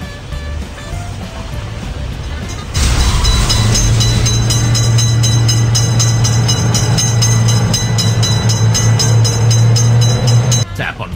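A cartoon train in a children's railway crossing game approaches and passes, with a horn-like sustained tone over a loud, continuous rumble that starts suddenly after a quieter lead-in and stops sharply near the end.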